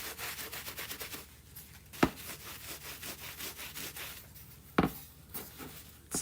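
Chalk paint rubbed and smoothed by hand across a panel, a steady close scratchy brushing texture with two sharp knocks partway through, no voices.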